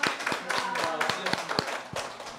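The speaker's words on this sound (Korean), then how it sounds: "우리 모두 서로에게 오늘 잘했다고 박수 한번 치시면서 마무리하도록 하겠습니다." A small group claps unevenly at the close of a youth discussion forum, with sharp hand slaps in a loose rhythm under a murmur of voices.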